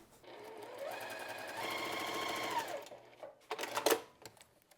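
A sewing machine stitches pieces of quilt fabric, running a steady, close whirring hum for a couple of seconds, then stopping. A few short mechanical clicks follow.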